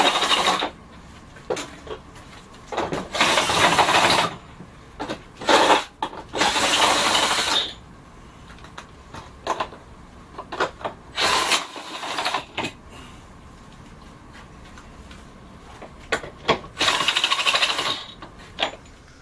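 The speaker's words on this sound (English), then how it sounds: "we're going to use Matthew's handy dandy tool here to unscrew the clamps" A hand tool working loose the clamps on a filter, bursts of scraping, ratcheting mechanical noise in several separate spells, close and fairly loud, with quieter clicks and handling between them and no talk.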